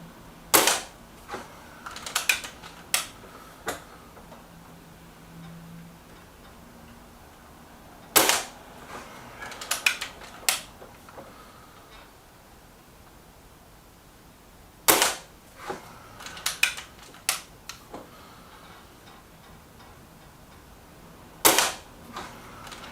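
A Reximex Zone air rifle fires pellets at a target, sharp isolated cracks at irregular intervals, each shot trailed by a few quieter clicks of reloading and the pellet strike, with no talking.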